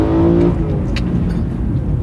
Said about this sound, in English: listen to this induction noise